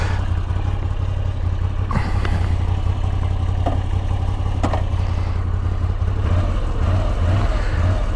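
Moto Guzzi V85 TT motorcycle engine running while riding, a steady low rumble with faint clatter, close and continuous throughout, no one speaking.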